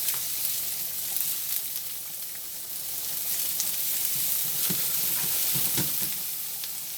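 Onions sizzle steadily in a hot pan, a continuous hiss with scattered sharp pops, heard close and with no talking.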